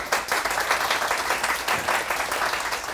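Steady, dense applause from an audience thanking panelists after a discussion on generative AI, continuous clapping throughout at moderate level with no voices.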